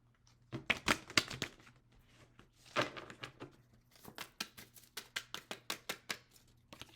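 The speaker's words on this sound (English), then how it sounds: "Let's get these a shuffle." A deck of tarot cards is shuffled by hand in a series of quick, crisp riffling and flicking bursts, close and fairly quiet, with short pauses between runs and no talking.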